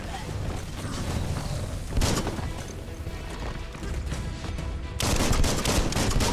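Gunfire in the action game Biomutant, bursts of shots layered over a dense, loud wash of game sound, with a heavier blast near the end.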